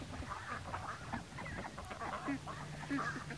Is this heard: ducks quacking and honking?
yes